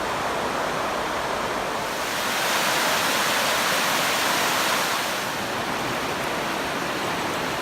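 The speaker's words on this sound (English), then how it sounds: "And there's a lovely weir." Water pours steadily over a weir at Blackwell Mill in the Peak District, a loud, continuous rushing roar with no talk over it.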